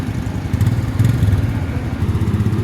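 A motorcycle engine runs nearby with a steady, low, throbbing hum that holds an even pitch throughout, with no voices over it.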